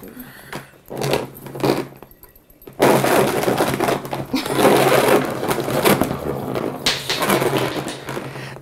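A cheap Dollarama plastic salad spinner being cranked hard, giving a loud, continuous whirring rattle after a few short clattering bursts, with brief voices near the start.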